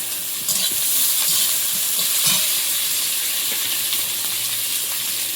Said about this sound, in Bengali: রসুনটা একটু ভাজা ভাজা হয়েছে, এবার দেবো কাঁচা লঙ্কা।